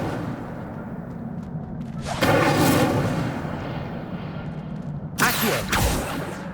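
Incendio fire spell cast in Hogwarts Legacy, a whooshing burst of flame that swells for about a second, then a second sharper fiery blast follows a few seconds later over a low rumbling game ambience.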